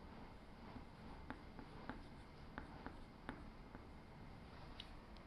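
A pen writes by hand on paper in steady, soft scratching strokes, with faint tapping marks as the tip lifts and lands, close and quiet over a low background hum.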